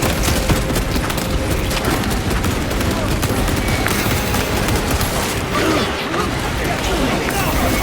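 Heavy bolter fire in Warhammer 40,000: Space Marine 2 roars as dense, continuous rapid gunfire with explosive booms, loud and unbroken, while a player talks over it.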